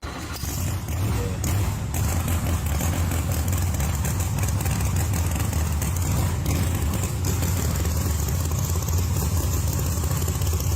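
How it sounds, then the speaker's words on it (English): A car engine idles close by, a continuous low rumble with a slight uneven throb that holds steady for around eleven seconds, with no voices over it. "Let me tease everyone with the sound quickly of Justin's car"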